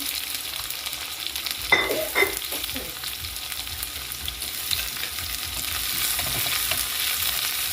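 Onion sizzles in hot oil with garlic, green chili and cumin, a steady close frying hiss with a few sharp crackles early on, no talking.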